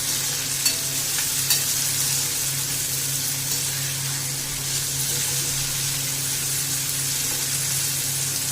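Vegetables with chopped tomato frying in a pan, an even, close hiss of sizzling oil running throughout with a few faint stirring clicks, and no one talking.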